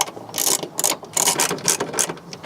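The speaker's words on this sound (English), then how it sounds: "then just going to release the 3 10mm bolts" A ratchet undoes 10mm bolts on a BMW 1 Series rear wiper motor, giving quick bursts of crisp clicking, close and loud, in several short runs.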